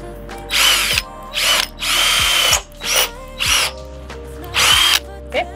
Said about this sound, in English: we're gonna drill through this PVC pipe